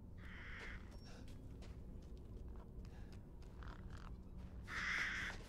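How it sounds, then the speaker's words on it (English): Crows caw in Resident Evil Village, several harsh calls scattered at a distance over a steady low ambient hum, the last caw louder and nearer, with no speech. "there's a lot of crows here"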